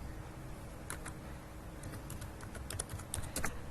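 Quiet keystrokes on a computer keyboard tap out an SQL column name in short clusters of clicks, growing slightly busier toward the end, with no talk over them.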